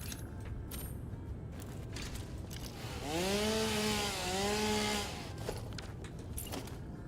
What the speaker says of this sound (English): Let's just chainsaw this.